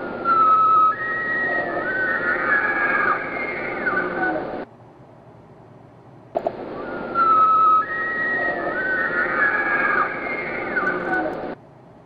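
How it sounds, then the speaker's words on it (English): A recorded bull elk bugle from Olympic National Park, played twice: a high, whistling, screeching call with grunting undertones, each lasting about five seconds, separated by a brief pause. "I'm going to play the sound of the vocalization because you'll hear why they call it bugling."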